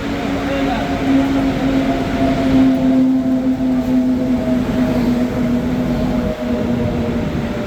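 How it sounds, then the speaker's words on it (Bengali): The Haldia–Asansol passenger train rumbles into platform 3 at Kharagpur with a steady low drone and a sustained tonal whine, loud and close, rolling on continuously. "হলদিয়া আসানসোল ট্রেন ঢুকছে প্ল্যাটফর্মে"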